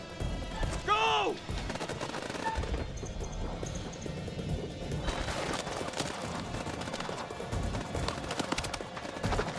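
Gunfire in House of Ashes, scattered shots in a noisy battle mix that stays continuous and moderately loud, with a brief whistling sweep early on and no clear talking.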